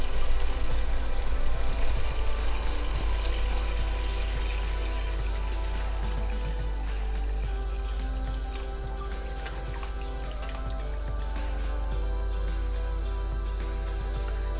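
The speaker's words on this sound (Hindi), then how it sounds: "और अब इसमें पानी ऐड कर रही हूँ।" Water is poured into a pot for chicken pulao in a home kitchen, a continuous splashing and trickling stream that is loudest at first, then settles into a softer steady pour with a few drips.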